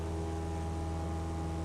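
A steady, droning small training-plane engine hums in flight with a constant propeller buzz, loud and close, with no breaks or voices.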